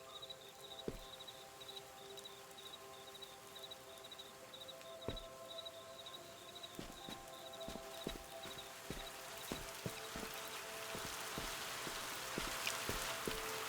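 Rain falling in a rain room in the puzzle game Viewfinder: a steady patter of drops with scattered sharper taps, building slightly louder toward the end, with a faint repeating high tone in the background.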